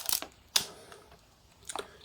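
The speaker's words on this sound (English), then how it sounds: "if you trip the shutter, you should hear it open and then you should hear it close" Olympus OM-2n 35mm film camera shutter firing up close: a sharp mechanical click as it opens and a second crisp click about a second later as it closes, after an earlier light click, with quiet room between.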